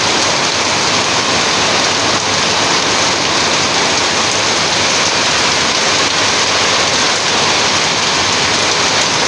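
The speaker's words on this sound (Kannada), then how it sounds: "ಫುಲ್ಲು ಮಳೆ ನೋಡಿ." Heavy rain pours down outdoors near Malpe, a dense, steady roar of falling water that stays loud and even throughout with no voices.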